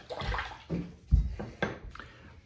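Water splashes against a face in a sink while rinsing after a double-edge razor shave with a shave butter, arriving as about five short, close splashing bursts with brief pauses between them.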